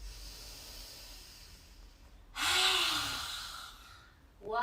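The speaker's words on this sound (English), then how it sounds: "as you exhale, you stick out your tongue and you make a big noise" A single forceful yoga exhale with the tongue stuck out, a loud breathy roar with a rough voiced edge that fades over about two seconds, preceded by quiet room tone and followed by the start of another breath.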